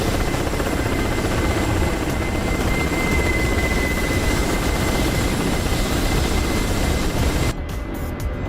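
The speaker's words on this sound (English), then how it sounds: "there's the Hind behind us" A Mi-24 Hind helicopter in a flight video game makes a steady, dense rotor and turbine roar that fills the whole stretch at constant loudness, then drops off sharply near the end.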